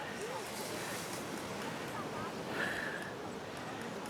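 Sea waves wash against the base of an old fort wall in Galle, Sri Lanka, a steady broadband surf roar mixed with gusty wind buffeting the microphone, continuous and fairly loud throughout.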